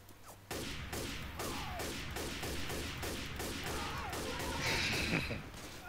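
Rapid gunfire in Left 4 Dead 2, shots punched through a fence and a mobile home, comes as a steady, loud run of evenly spaced bangs over ongoing game noise, with a brighter burst near the end.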